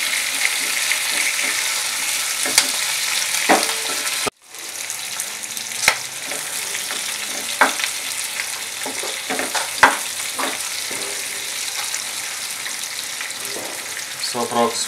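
Onions lightly frying in a pan for chilli paneer, a continuous close sizzle with occasional scrapes and clinks of a spoon stirring, briefly cut off once before resuming steadily.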